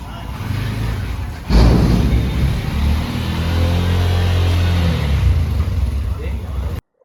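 A 2024 Bajaj RE BS6.2 auto-rickshaw engine catches with a sudden burst after a quiet lead-in, then settles into a steady close rumble while someone talks over it, cutting off abruptly at the end.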